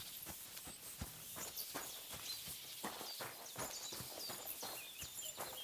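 Hooves of a horse walking in the video game Kingdom Come Deliverance 2, a quiet, fairly close clip-clop of repeated irregular steps over several seconds, no talking.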